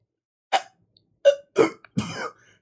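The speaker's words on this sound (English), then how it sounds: "he keeps coughing" A person coughs four times in short, rough bursts, spaced irregularly over a couple of seconds in a quiet room.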